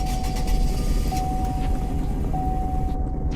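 The Leland LTS6 car in the Greenville driving game starts up and settles into a steady engine drone, with a thin whine running through the constant low rumble and no talking.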